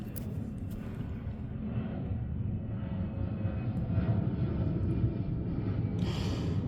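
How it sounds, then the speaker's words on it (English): Airplane passing overhead outdoors, a loud sustained engine roar that swells steadily and fills the background for several seconds without speech. "These goddamn airplanes."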